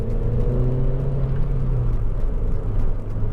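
A Honda Civic 1.8 i-VTEC EX five-door hatchback drives on a test track. Its engine hum and road rumble hold steady and loud from inside the cabin, with a gentle whir shifting slightly as the car brakes.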